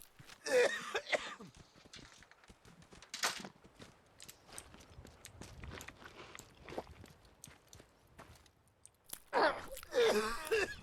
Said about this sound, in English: I love the coughing.